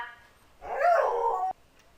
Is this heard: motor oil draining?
no